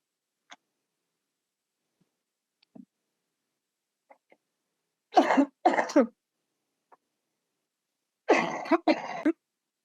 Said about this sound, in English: I've got a bit of a cough here